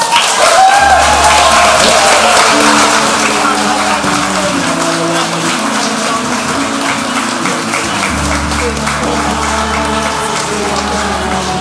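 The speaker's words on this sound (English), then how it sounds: "Round of applause." A congregation applauds after a baptism at a church service, a broad, loud wash of clapping that runs the whole stretch, layered over sustained low music tones and some voices.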